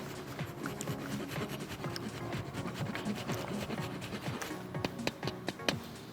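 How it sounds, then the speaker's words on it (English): Hard cheese grated over a risotto, a steady series of short scraping rasps that builds to sharper, louder strokes toward the end, close and with no talking. "we're going to be grating some amazing cheese on the top"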